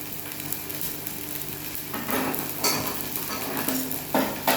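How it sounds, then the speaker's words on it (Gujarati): Paneer pieces fry in oil in a small bowl-like pan while methi paneer is being made, giving a steady close sizzle with louder bursts of crackle and some stirring clinks. "બાજુ એક બાઉલ નાનું મૂકી અને એમાં પનીરના પીસ તળી લઈશ"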